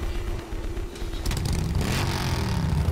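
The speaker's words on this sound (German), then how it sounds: "Oh, Motorrad." Motorcycle engine in Dead Rising 3, a steady mid-level drone that rises and thickens after the first second, with clattering game noise layered over it.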